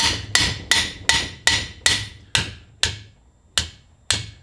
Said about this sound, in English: This is a very cheap hammer.